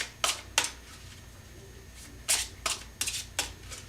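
Tarot cards are shuffled and drawn in a quick series of crisp riffling flutters, about eight short bursts spaced irregularly, close and fairly soft.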